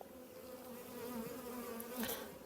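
Honeybees buzz continuously around hive frames, a dense steady drone close by with no voices.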